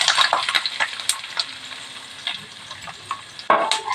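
Steady crackling and sizzling of onions frying in hot oil for a crab fry, with occasional stirring scrapes in the pan.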